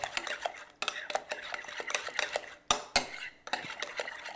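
A utensil stirs sour cream into macaroni salad dressing in a bowl, producing rapid close clinks and scraping taps against the dish in an uneven rhythm.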